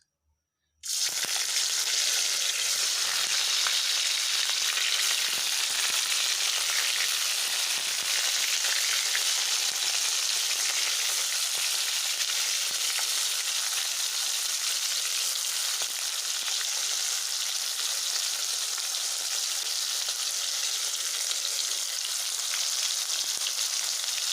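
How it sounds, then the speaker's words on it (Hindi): Paneer frying lightly in hot oil in a kadhai: a loud, continuous sizzling hiss that starts abruptly and holds steady for over twenty seconds, with no talking. "थोड़ा सा पनीर को फ्राई करना है, बिल्कुल हल्का सा।"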